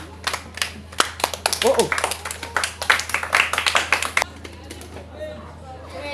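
An audience at a children's book event claps in a short burst of uneven hand claps for about four seconds, with voices and brief exclamations over it before the clapping fades.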